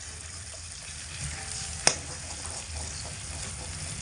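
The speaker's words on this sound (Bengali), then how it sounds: "ডিমটাকে একটু ছাড়া ছাড়া করে ভেজে নিতে হবে" An egg being fried and broken up in a pan for homemade chow mein: a faint, steady sizzle throughout, with one sharp tap of a utensil midway.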